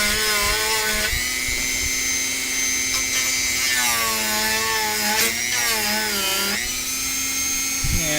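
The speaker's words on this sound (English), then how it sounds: "let's dremel this down a couple areas" A Dremel rotary tool grinds down plastic in a steady, loud, high-pitched whine that shifts pitch as the load changes, running continuously throughout.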